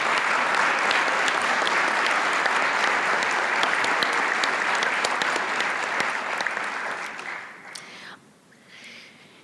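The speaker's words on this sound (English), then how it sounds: "she deserves an incredible round of applause" Loud, sustained applause from a large audience at a state bar convention general assembly, dense clapping for about seven seconds before tapering off into a quieter room.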